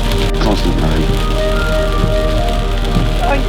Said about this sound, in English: it's fairly messy. Not boring, but constant rain.